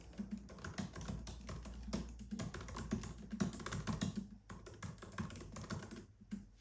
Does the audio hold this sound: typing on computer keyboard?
yes